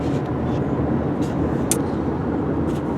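Steady low road rumble inside a car driving in Iowa on the way to Iowa City, engine and tyre drone constant throughout with a few faint higher hisses.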